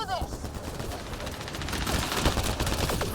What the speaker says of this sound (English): Ah, he's got a minigun, that's the problem.